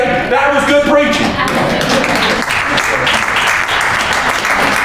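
A church congregation breaks into steady applause during a sermon, the clapping loud and sustained throughout, with voices calling out and talking over it.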